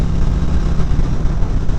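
A 2018 Harley-Davidson CVO Limited motorcycle's exhaust roars steadily and loudly under acceleration, a dense, continuous low rumble heard up close during a riding test.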